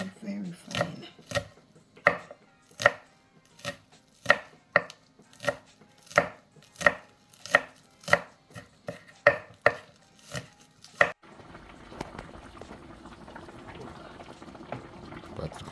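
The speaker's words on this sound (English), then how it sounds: "You chop it very, very fine." A knife chops food very finely on a board in a Jamaican home kitchen, about eighteen crisp, evenly spaced strokes, close and clear, followed by a soft bubbling hiss of liquid.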